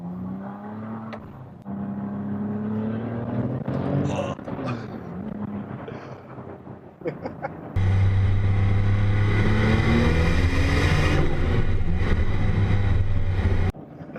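A tuned Porsche 996 Turbo pulls hard from inside the cabin, a loud, steady engine roar that lasts several seconds and cuts off abruptly, after quieter engine sounds under talking.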